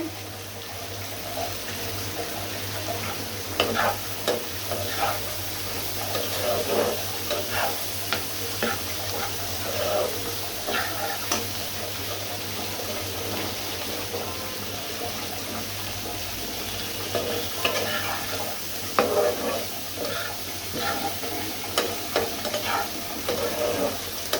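Bitter gourd fries with spice paste in a pan, a steady close sizzle running throughout while a utensil stirs and scrapes at irregular intervals, with occasional watery splashes and no talking.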